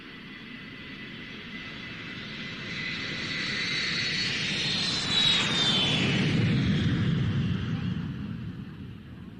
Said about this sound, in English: Taking off from the right, the NATO E-3A, flown by Lieutenant Colonel Moroccan Hercul